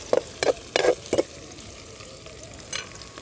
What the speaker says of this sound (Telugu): కొంచెం దూరగా అయ్యేంత వరకు మనం ఇలా వేపుకోవాలి.